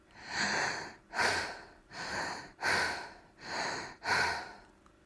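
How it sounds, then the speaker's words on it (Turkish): Deep, forceful belly breaths during a fast-paced breathing exercise, six close, loud inhale and exhale cycles in steady rhythm, each a rushing airy whoosh with no talking. "Bunu yaparken karnınız nefes aldığınızda şişecek, nefes verirken inecek."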